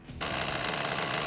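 Nitro Hammer RC boat's nitro engine running too rich, kicking in after a brief quiet moment as a rough, burbling, uneven buzz with a choppy, sputtering texture, continuous and close.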